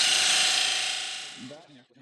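A lathe parting tool cuts into a wooden lid piece with a steady, bright, high-pitched shriek that fades over about a second and a half and stops near the end.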